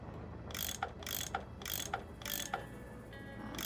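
A tool unscrews bolts in the Nancy Drew game Last Train to Blue Moon Canyon, giving four evenly spaced bursts of mechanical ratcheting, each ending in a small metallic click, over a steady low hum.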